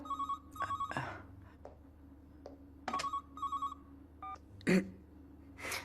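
An indoor telephone rings in repeated short double bursts of a bright electronic bell, fairly close and clear, with a few soft household knocks between rings.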